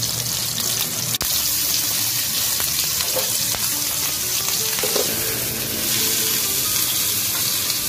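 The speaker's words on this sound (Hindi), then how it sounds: "ये देखिए मैंने पैन में डाल दिया, इसको हल्का सा कलर दूंगी गोल्डन का बस" Pieces of mutton handi chaap fry in a pan until golden, giving a loud, continuous close-up sizzle with faint crackles and pops throughout.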